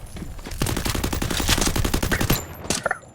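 Rapid automatic gunfire in a video game, a dense burst of loud shots that runs for about two seconds, followed by a couple of scattered shots and short game sound effects.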